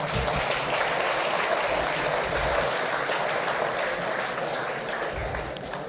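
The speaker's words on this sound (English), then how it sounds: "Please give Dr. Russell another round of applause." Audience at a political people's forum in St. Ann applauding Dr. Russell, a dense, continuous wash of clapping from a large crowd that holds steady for several seconds and tapers slightly at the end.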